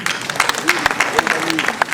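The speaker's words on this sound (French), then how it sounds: "on l'applaudit" A hall audience at a town mayor's New Year greetings ceremony in Ouistreham claps steadily for a man called on stage, a dense patter of many hands with voices calling out over it.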